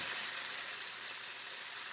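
Chicken frying in hot oil gives a loud, continuous crackling sizzle with no voices.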